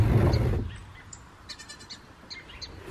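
Baby goats let out with the herd outdoors give a few short, faint bleats and calls scattered after a brief louder rustle at the start, with quiet background between them.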